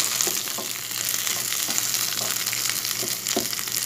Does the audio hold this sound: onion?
yes